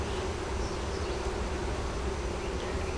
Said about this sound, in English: This one's loaded down with bees.